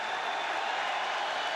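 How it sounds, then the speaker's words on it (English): Capacity crowd at a 1990 NBA playoff basketball game in New York, Knicks hosting the Celtics, giving a sustained ovation: a steady wash of applause and cheering that holds evenly throughout, with no clear voices standing out. "ovation from this capacity crowd"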